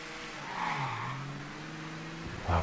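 A car in the video game Mafia III pulls away with tires squealing over a rising engine note, loud and close, ending in a sharp burst.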